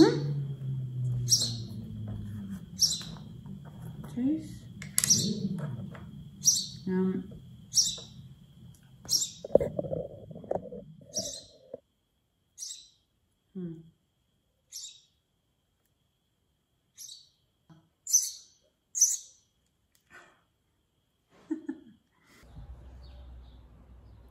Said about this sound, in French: Jiggy, c'est un petit oiseau qui est tombé du nid.